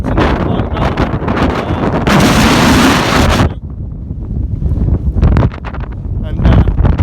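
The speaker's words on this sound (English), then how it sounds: "the wind was reaching up to 40 miles an hour" Strong, cold wind on an exposed, frozen mountain top gusts up to 40 mph, buffeting the microphone loudly and steadily with one roaring surge, while a person talks through much of it.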